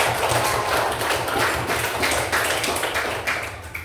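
Classroom applause from fifth-grade students for a group that just presented, a steady dense patter of small hands filling the room for several seconds and tapering slightly at the end.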